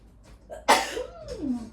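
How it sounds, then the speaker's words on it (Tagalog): A single sneeze brought on by allergy, sharp and close, with a sudden burst followed by a trailing exhale, heard in a home kitchen while onions and garlic are being cooked. "Bumahing na."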